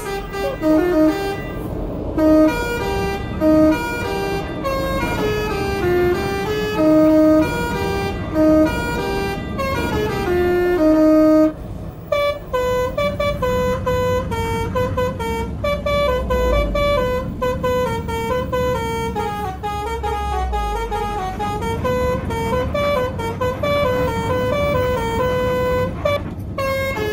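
An Alzifa telolet multi-tone horn on a Haryanto Patas bus in Euro Truck Simulator 2 plays short, separate musical toots at first, then a longer run of changing melodic notes, loud and close over an engine hum.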